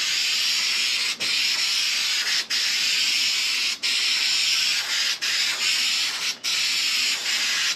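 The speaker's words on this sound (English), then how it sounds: "Spray both surfaces and allow adhesive to dry for 30 seconds." Spray adhesive hisses steadily from an aerosol can onto a car headliner, a loud, continuous close spray broken by several brief pauses between passes.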